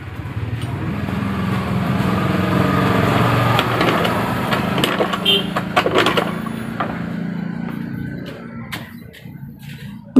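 A Honda Beat FI scooter with an ignition fault, not firing, is kick-started at close range: a steady mechanical churning drone runs through most of the stretch, then thins out and fades near the end, with a voice briefly underneath.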